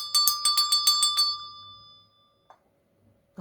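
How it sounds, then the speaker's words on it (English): A small bell is struck in a quick run of about eight bright, ringing strikes that then fade into near silence, with a faint knock or two afterward. "we're going to start off by ringing the bell"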